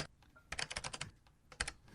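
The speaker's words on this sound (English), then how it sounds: "What are you typing?" Quick, close keystrokes on a computer keyboard clatter in irregular bursts, with a flurry of taps in the middle and a few sharper clicks at the end, fairly quiet and without talk.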